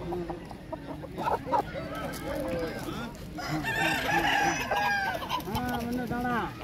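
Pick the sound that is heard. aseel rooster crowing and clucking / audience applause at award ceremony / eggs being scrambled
aseel rooster crowing and clucking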